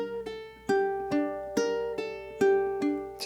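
A ukulele plays the closing measure of an etude, with plucked notes ringing out in a steady pattern and pull-offs linking some of them, clear and close with no voice.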